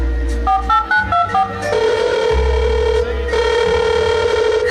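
A phone is dialed, a short run of stepped keypad tones followed by a steady ringback tone, loud and set against a dense background of music or effects.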